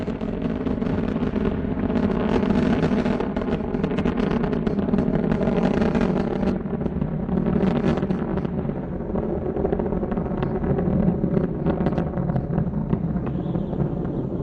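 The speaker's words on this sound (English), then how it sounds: "Three engines now throttling down as Endeavour passes through the area of maximum dynamic pressure on the vehicle in the lower atmosphere." Space Shuttle Endeavour's engines roar during its final launch, STS-134, as a dense, crackling rumble that holds steady and unbroken throughout, with no voices heard.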